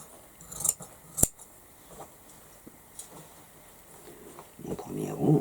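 Scissors snip through fabric while cutting a second circle for a simple beret, a few sharp crisp cuts at close range followed by softer rustling of the cloth, with speech also present.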